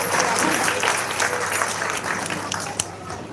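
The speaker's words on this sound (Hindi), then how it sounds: "जोरदार ताली बजाकर के हम लोग स्वागत अभिनंदन करें" Audience clapping welcomes a guest at a Satnami community bhoomi pujan (ground-breaking ceremony) in Bilaspur, a dense, steady burst of applause from a gathered crowd lasting the whole moment, with faint voices mixed in.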